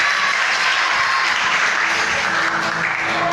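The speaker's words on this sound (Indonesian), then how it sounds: "Tepuk tangan dulu buat Tuhan Yesus." A Sunday school audience claps for Jesus, a dense, loud, continuous burst of applause filling the whole moment without pause.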